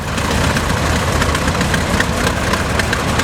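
A vintage Ferguson tractor with its side-mounted motor idles steadily at a show, a loud, continuous low rumble with a faint knocking pulse that holds its level throughout.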